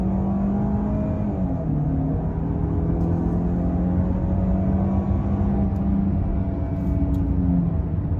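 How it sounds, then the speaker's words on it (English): Steady, loud engine drone from inside a 2020 Land Rover Discovery Sport, 247 horsepower and about 4,000 pounds, pulling through a gear as it accelerates, with the pitch climbing gradually over continuous road rumble and no talking. "let's do a little bit of accelerating here in the Discovery Sport."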